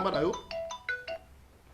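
Short phone ringtone tones chiming as a first caller phones in to a live call-in broadcast, a few quick electronic rings right after a voice.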